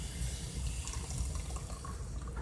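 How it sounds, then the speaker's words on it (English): Hot, freshly boiled water pours steadily into a bowl of cold water and gelatin mix for jello shots, a continuous close liquid gush and splash lasting a couple of seconds without talk. "Pour it in with the cold water gelatin mix."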